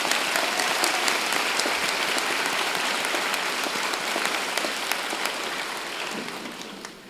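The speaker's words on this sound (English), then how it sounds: "I know, let's clap." A large audience at a University of Toronto Mississauga spring convocation ceremony claps in a thick, sustained burst of applause, loud and continuous before tapering off slightly at the end, with no speech over it.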